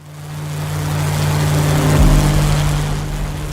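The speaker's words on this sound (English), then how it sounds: "To hear the Rolls-Royce Merlin engine growl" A steady, low Rolls-Royce Merlin aircraft engine drone rumbles throughout, swelling slightly in the middle and easing off, with no voices.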